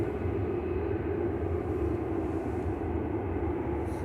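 An EasyJet airliner bound for Belfast taxis out at Manchester Airport, giving a steady, even jet rumble with a low hum that holds at a constant level throughout, at moderate distance and with no voices.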